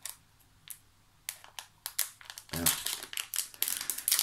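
Crinkling plastic packaging being opened to get at carabiners, a series of sharp crackling bursts that grow denser and louder toward the end, close by.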